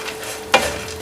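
Semolina fries and sizzles in ghee while being stirred in a pan for panjiri, a soft continuous crackle with one brief scraping stir, close and moderately quiet, without talk.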